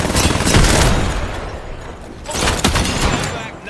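A frag grenade launches and explodes during a video game match. Heavy booming blasts and rapid gunfire dominate, with two loud bursts separated by a slightly quieter stretch.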